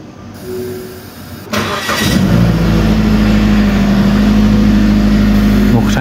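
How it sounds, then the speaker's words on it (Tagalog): A car engine in Qatar cranks briefly and catches, then settles into a loud, steady idle hum that continues to the end, with some faint talking before it starts. "Start natin ang makina."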